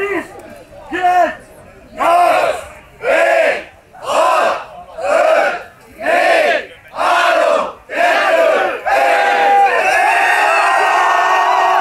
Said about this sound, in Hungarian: 10 órakor a kapunyítás pillanatában így kezdett el özönleni a tömeg a dunaújvárosi Rock Marathon helyszínére.